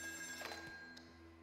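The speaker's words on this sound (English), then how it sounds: "Phone call." A telephone rings in the horror video game Still Wakes the Deep, a faint, steady electronic ringing tone heard alone over low ambient hum.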